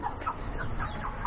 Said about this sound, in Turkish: tavuğumuz vardı işte Gurk.